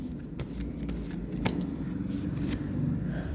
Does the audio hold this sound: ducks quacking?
no